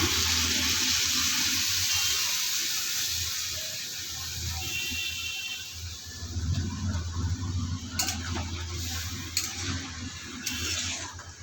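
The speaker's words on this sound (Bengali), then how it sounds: "সামান্য পানি দিয়ে দেবো কষানোর জন্য" Water is poured into a pan of cooked spices and green bananas, making a loud hissing rush that fades into a softer bubbling sizzle with a few sharp clinks near the end.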